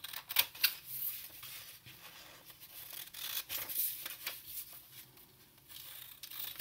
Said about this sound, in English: now I'm going to take my scissors again, and I'm going to cut out all of those things I just made